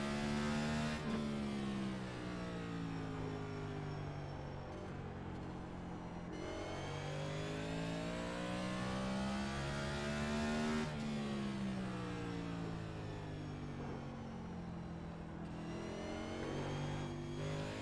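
A Next Gen race car in the iRacing sim at Martinsville sustains a loud engine drone, rising and falling in pitch with throttle and gear changes, continuous and without speech.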